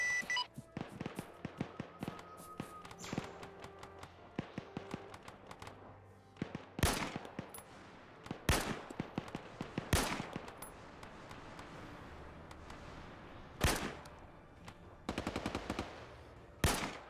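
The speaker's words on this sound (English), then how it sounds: "We'll do a chain gun." A chain gun fires in a military video game as several sharp, loud bursts spaced a second or two apart over a quieter background of faint beeps and tones. No one speaks.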